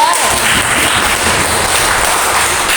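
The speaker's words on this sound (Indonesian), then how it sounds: "kita beri aplaus dulu untuk kelompok 2" A classroom audience of schoolchildren claps for a student group, the applause filling the room as a dense, steady, loud wash of hand claps that lasts the whole moment.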